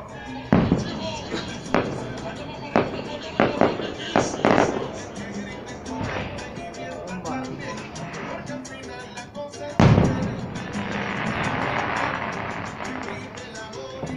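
A burning fireworks castle at a town festival in San Miguel Ameyalco sets off firework bombs. Loud, sharp bangs and slams repeat over a crackling hiss, with one big burst near the end, and voices can be heard.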